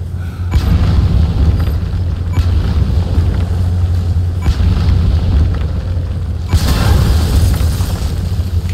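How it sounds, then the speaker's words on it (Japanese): Explosions in the Metal Gear Solid V video game set off heavy, rumbling booms, with several loud bursts and long, sustained low roars that run nearly continuously across the stretch. "じゃあ爆発してもらいましょう。"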